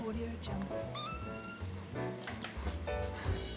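A cat meows several times over music and talking, the cries rising and falling in pitch.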